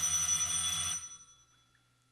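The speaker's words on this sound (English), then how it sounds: "The phone rang." An old-fashioned telephone bell rings once in a radio drama, a bright, loud, trilling ring for about a second that cuts off and leaves near-silence.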